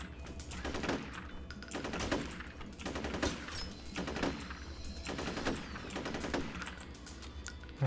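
Bursts of automatic gunfire from the F.E.A.R. video game rattle in repeated volleys roughly every second, dense and loud over a steady background rumble, with no talking.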